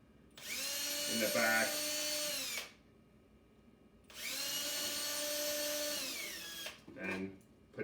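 A power drill drives screws into a wooden bluebird nestbox in two sustained, loud whirring runs of about two seconds each, separated by a pause, with a brief spoken remark at the end.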